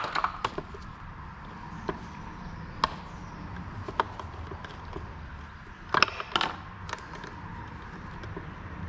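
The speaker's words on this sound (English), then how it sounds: "get our pick and start getting this old valve cover gasket out" A pick works an old valve cover gasket out of a VW/Audi 2.5 engine, giving sparse, sharp metallic ticks and light scrapes over a low background hum, close up and with no speech.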